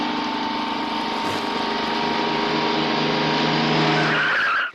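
A car brakes hard to a stop in a 1991 Malayalam comedy film, its tires screeching in one long sustained skid over engine noise that cuts off abruptly at the end.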